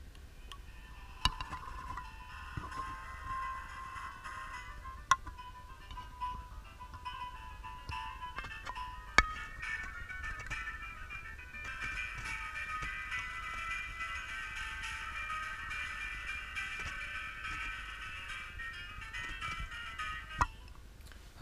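Music playing at low volume through a small 3D-printed speaker, thin and tinny with a faint tune running throughout, a few sharp clicks, and no talking.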